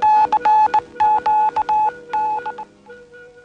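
Telephone dialing: a rapid series of DTMF tones, about a dozen short clear beeps in quick uneven rhythm, close and alone, ending with a fainter tone.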